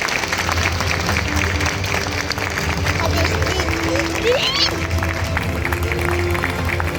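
Audience applause fills a hall at a school event, a steady wash of many hands clapping with crowd murmur and some voices mixed in.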